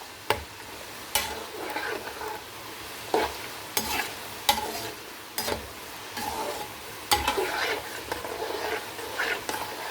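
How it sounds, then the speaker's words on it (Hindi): Namak paray dough pieces fry in hot oil with a steady, soft sizzle, while regular sharp clinks and scrapes of a stirring utensil recur every second or so. "देख सकते हैं आप कितने अच्छे से ये फ्राई हो रहे हैं"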